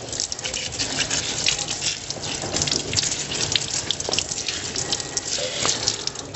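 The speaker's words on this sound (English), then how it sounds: "we use running water to wash all the roots and remove all the dirt, all the debris." Running tap water gushes steadily over Warbugia ugandensis roots as they are washed free of dirt and debris, a close, continuous splashing stream of moderate loudness with no voices.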